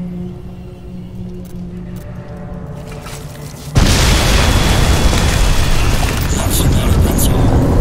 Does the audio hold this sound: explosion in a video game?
yes